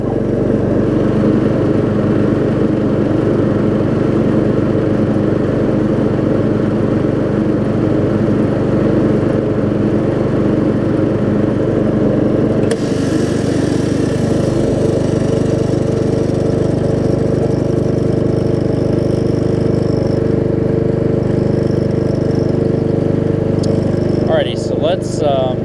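Craftsman riding lawn mower with a freshly adjusted carburetor and reattached deck runs steadily close by, a loud continuous engine drone with a shift in tone midway.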